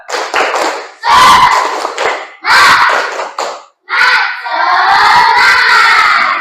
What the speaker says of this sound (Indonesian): Yo, tepuk semangat.